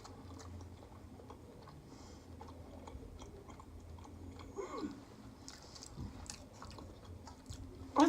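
Someone eating soft kimchi pot stickers, quiet close chewing and soft mouth sounds against a faint room background, with no talking.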